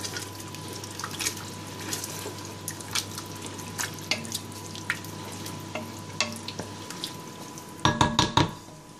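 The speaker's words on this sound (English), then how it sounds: "Just give that a little stir." Meatball sauce with a smoky addition is stirred in a pan, giving soft scattered scraping clicks over a steady low hum, then a brief louder cluster of stirring near the end.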